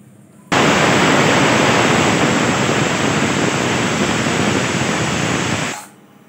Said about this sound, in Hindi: दो सीटी हो गया है,